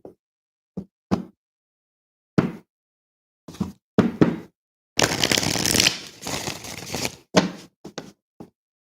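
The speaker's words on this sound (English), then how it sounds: "for some reason, these cards don't want to shuffle that way" Brief crisp taps and knocks of tarot cards being handled, then a few seconds of continuous riffling shuffle, followed by more scattered taps. No talking.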